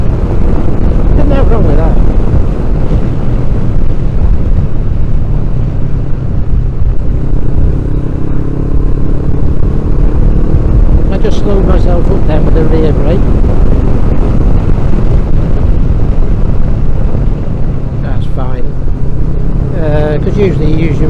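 A 2023 Honda CB500X motorcycle accelerates in fifth gear, its engine a steady loud drone mixed with heavy wind rush throughout, with brief higher whines partway through.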